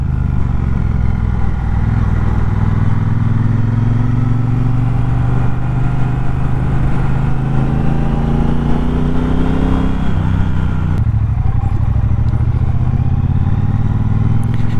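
A 2019 Triumph Bobber Black motorcycle cruises along the road, its engine holding a steady, loud drone with wind rush throughout and a slight dip and change in tone near the end.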